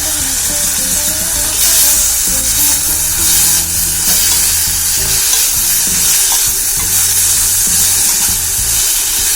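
Vegetables, including cauliflower, sautéing in a pan for a quick vegan pasta make a loud, close, continuous sizzle, with the clatter and scrape of stirring throughout.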